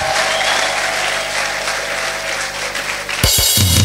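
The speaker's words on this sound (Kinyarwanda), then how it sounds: "gikomera amashyi mu izina rya yesu" A congregation applauds inside a church during a sermon, steady dense clapping that fills the room for several seconds before a few louder, closer claps break through near the end.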